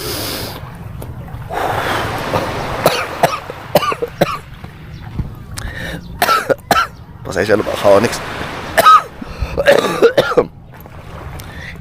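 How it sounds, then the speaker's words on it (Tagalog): Coughing and throat clearing from a man at a seaside pier or park in Paluan, Occidental Mindoro, several rough bursts mixed in with his own talking over a low outdoor background. "Inuubo talaga ako, no?"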